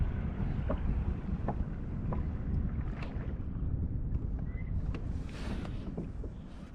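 A small dinghy moves across water in a mooring area, giving a steady low rumble and splashing hiss with wind buffeting the microphone.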